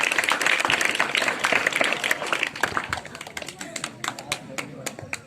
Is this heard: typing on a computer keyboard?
no